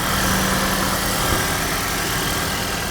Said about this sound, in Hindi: ऐसे इंजन की आप मज़ा ले सकते हो।